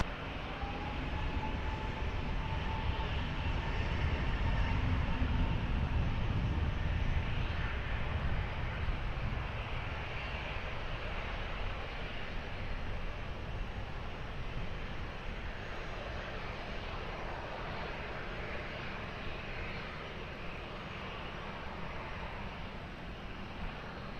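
An airplane takes off at Lisbon Airport, its engines a broad, sustained roar that holds steady and fairly loud throughout, swelling slightly early on before easing a little.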